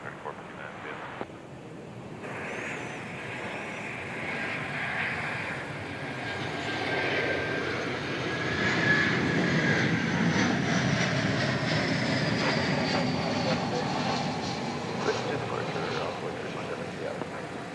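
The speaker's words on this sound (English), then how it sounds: "American 2944 coming in from Boise, Idaho." American Airlines flight 2944 from Boise, Idaho arrives at DFW airport with a distant jet engine whine and rumble that swells gradually toward the middle and then eases slightly, with a voice talking over it.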